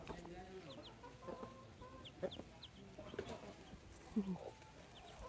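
Chickens cluck repeatedly around the space, with a few louder squawks standing out over a steady murmur of background voices.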